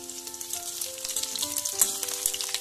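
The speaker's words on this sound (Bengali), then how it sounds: "পেঁয়াজটা মিশিয়ে একটু হালকা করে ভেজে নেব" Sliced onion sizzles steadily in hot oil over tempered spices while spinach dal is being cooked. The frying hiss is close and continuous, with a few faint tonal beeps in the background.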